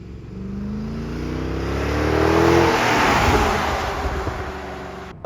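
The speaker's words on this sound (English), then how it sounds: "effortlessly, you go from 30 to 60 in no time." A Mercedes-Benz W219 CLS63 AMG engine revs up hard as the car accelerates from 30 to 60, its pitch climbing steadily before settling into a loud, close roar.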